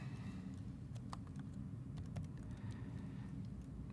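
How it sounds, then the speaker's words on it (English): A computer keyboard is tapped slowly with one finger, sparse irregular clicks spaced apart over a steady low background hum, close and quiet with no talking. "I'm like literally typing like this with one finger."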